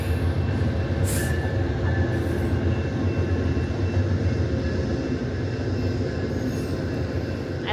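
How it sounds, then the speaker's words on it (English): A passenger train passes close by with a steady, loud rumble of wheels on rails and a brief squeal near the start, with no pause for its full length. "Hey, it's a person train."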